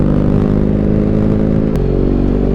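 A BMW GS motorcycle with an aftermarket exhaust idles and revs around 3,000–4,000 RPM, a loud, close, steady throaty engine drone with a brief click partway through.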